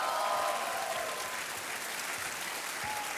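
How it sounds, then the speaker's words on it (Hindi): A studio audience on the Kaun Banega Crorepati quiz show claps loudly and evenly, a dense continuous round of applause with a faint tonal sound near the start, no talk. "खूब जोरदार तालियां बजाए"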